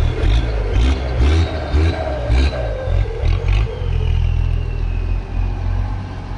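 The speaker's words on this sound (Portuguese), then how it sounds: "Turbo diesel 6 cilindros, motor MWM." The six-cylinder MWM turbo diesel engine of a Chevrolet Silverado pickup rumbles loudly and close, revving in repeated surges with a deep clattering roar and turbo whine between the pulses.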